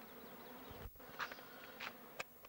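Bees buzzing around a hive, a faint continuous drone with a few individual insects zipping close past in short, brighter swells.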